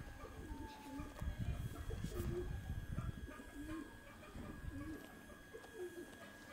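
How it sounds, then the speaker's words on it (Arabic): Soft, low cooing of a dove caught in a bird trap repeats in short phrases amid faint background murmur and a steady electrical hum. "اليمامية بتاعتك اهي"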